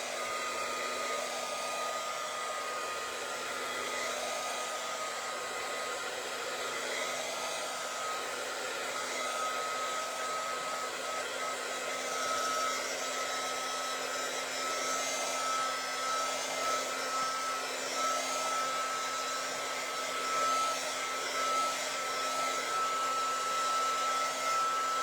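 A hair dryer runs steadily and continuously at close range, drying a freshly colored craft project, with a constant whirring blow and a strong motor whine throughout and no talking.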